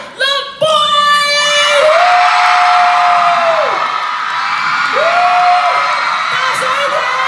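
Concert crowd at a K-pop show in Taipei erupting into loud, sustained high-pitched screaming and cheering, with long shrill screams rising over the dense roar, right after an amplified host voice.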